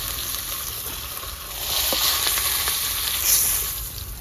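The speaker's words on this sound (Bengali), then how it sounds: "বন্ধুরা মাছ ভাজা হয়ে গেছে" Pieces of rui fish fry in hot oil in a village kitchen, giving a steady, fairly loud sizzling hiss with a brief swell partway through and a few faint spatters.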